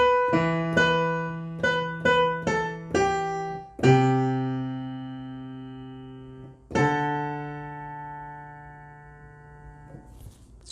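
A piano plays the second part of the verse of a song: a short run of plucked-sounding notes, then sustained chords left ringing and decaying, with the left hand skipping down, alone and unhurried.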